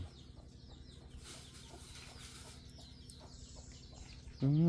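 Chickens cluck softly and intermittently in a quiet rural yard, with one louder, close call bursting out at the very end.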